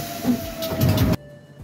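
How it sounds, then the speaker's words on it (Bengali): Paris metro train starting to move, a loud hiss and mechanical rumble building for about a second before cutting off sharply into a quieter hum. "এখন ট্রেন চালিয়ে দেব"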